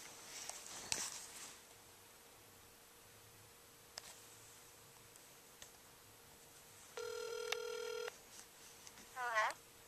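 Phone call being placed: a faint click, then a clear ringback tone that rings steadily for about a second, followed by a short chirping tone as the line connects.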